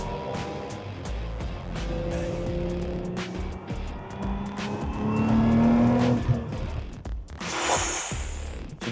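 Cars drive fast around the Nurburgring track in a steady roar of engine and road noise heard from inside a car, with a rising rev around the middle and a few sharp knocks, loud and close.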